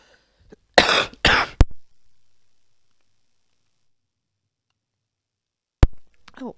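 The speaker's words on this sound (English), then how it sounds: "thank you for making me cough" A person coughs twice, harsh and close, followed by a small click. Quiet stretches come between the sounds, and another sharp click comes near the end.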